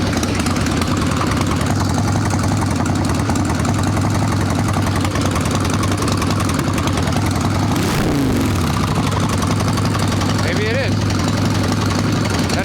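Evo Sportster chopper motorcycle engine idles while warming up on choke, a steady close rumble with a brief surge near the end and a voice talking over it.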